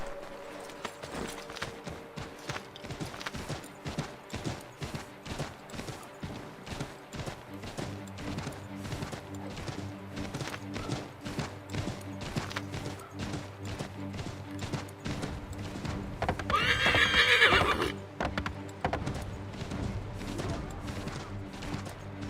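Horse hooves clip-clop in a steady galloping rhythm in Assassin's Creed III, with a louder burst and a whinny near the end over a continuous game soundtrack.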